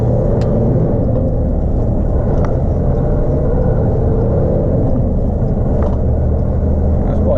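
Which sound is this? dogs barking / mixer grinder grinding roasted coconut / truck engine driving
truck engine driving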